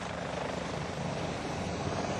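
A helicopter flying over Upper Mustang in Nepal, its rotor and engine producing a dense, continuous whirring roar at steady moderate loudness, with no speech.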